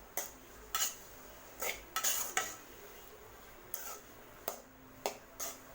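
Brinjal frying in oil being stirred with a spoon in a pan, a series of separate metallic scrapes and clinks spaced across the moment over a faint low background, with little sizzle heard.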